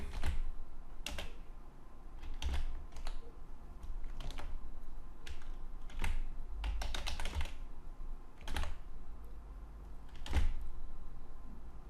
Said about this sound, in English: I go back to my PHP file, and I type in delivery